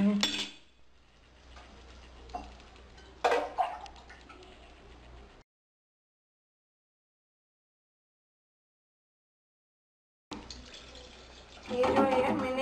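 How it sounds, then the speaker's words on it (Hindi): Water poured from a glass into a cooking pot for an aloo sabzi, making a faint splashing trickle among clattering utensil sounds, with a silent gap in the middle. "अब हम पानी डालेंगे।"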